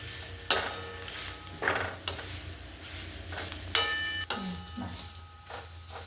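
Hyacinth beans dry-roasted in a pan, stirred with repeated scraping sweeps and light rattling over a steady background hiss, close and fairly loud with no talk.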